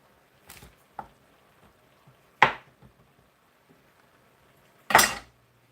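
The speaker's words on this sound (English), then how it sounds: "I'm just cutting in quarters just so it can melt faster." A knife cuts butter into chunks for an apple pie sauce, making a few scattered soft thuds and knocks against a board or dish, two of them louder, spaced by quiet gaps with no talking.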